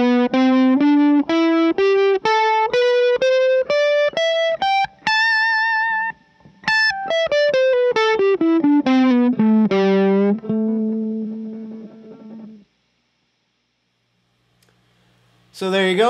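Distorted electric guitar plays the fifth pentatonic pattern with an added ninth, single notes climbing and then descending in an even rhythm, loud and alone, ending with a brief pause before a final chord.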